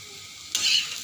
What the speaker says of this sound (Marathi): हे छानसं आपण पातळ केलेलं पीठ आपण ओतून घेतलेलं आहे